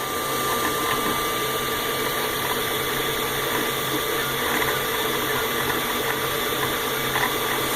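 A Prusa i3 Pro B 3D printer with a Sanguinololu board running auto bed leveling, a continuous mechanical whir and ratcheting with steady tonal motor whine throughout, close and fairly loud.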